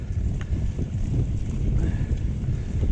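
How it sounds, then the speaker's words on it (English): Strong wind buffeting the microphone on a mountain bike trail, a continuous low roaring rumble that gusts throughout without letup. "I bet it's super freaking windy right now"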